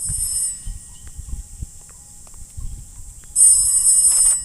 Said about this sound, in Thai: นี่คืออะไร โทรศัพท์ดังที่ไหน